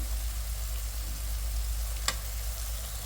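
Meat fries in oil in a pan with spices, making a steady loud sizzle throughout, with one brief scrape of stirring near the end and no talk.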